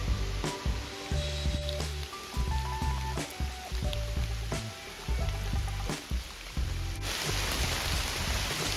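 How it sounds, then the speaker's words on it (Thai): Rain patters steadily on a surface nearby, a dense hiss with scattered louder drops and a few sharp knocks, continuous for several seconds. "ฝนตกตก"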